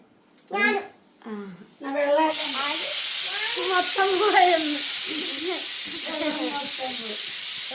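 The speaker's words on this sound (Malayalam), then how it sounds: "കുക്കറിന്റെ ഒച്ച കാരണം കേക്കാൻ മേലമ്മ." A pressure cooker releases a loud, continuous hiss of steam that starts abruptly and keeps going, while someone talks over it.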